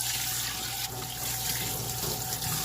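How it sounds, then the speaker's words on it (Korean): Japchae glass noodles rinsed of starch under running tap water: a steady, loud, close rush of water from the faucet into a sink, continuous throughout with slight shifts as the noodles are moved. "전분 나와 있는 걸 충분히 씻어 주셔야지 볶을 때 밑에 많이 눌러붙지 않거든요."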